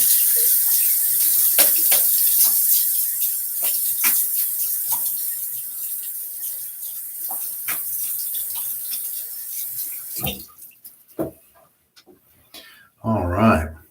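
Tap water runs steadily into a sink for about ten seconds, hissing and splashing nearby as a face is rinsed after a wet shave, then stops, followed by a few handling clunks and a short burst of speech.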